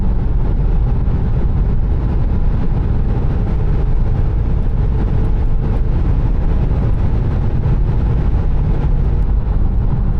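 Land Rover LR3 cruising on the Autobahn in hot weather, a loud, steady low engine and road drone with tire and wind noise filling the cabin, unbroken throughout with no talking.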